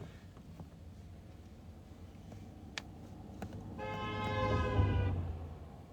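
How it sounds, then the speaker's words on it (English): A passing car sounding its horn, a sustained honk swelling in and fading over about a second amid road noise and a few ticks, moderately close. "They were going fast and honking."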